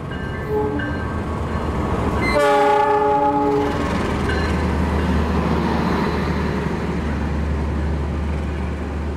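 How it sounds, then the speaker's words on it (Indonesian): The Argo Bromo Anggrek passenger train passes close by on its way to Banjar station, sounding a loud, harmonic horn blast early on, then the steady heavy rumble and rolling clatter of the carriages going by. "Ini kereta api Argo Bromo Anggrek dengan kelas kompartemen"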